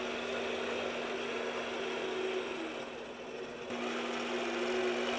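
A quilting machine stitching wavy lines with rulerwork, a steady fast mechanical whir and needle chatter close by, briefly slowing and easing midway before resuming the continuous running hum.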